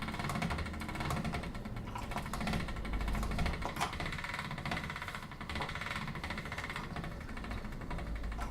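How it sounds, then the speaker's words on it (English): A pasta machine rolls fondant for a Paris ruffle cake, starting on the thickest setting, with a steady low mechanical whir and hum running continuously throughout at moderate level. "then place it into our pasta machine"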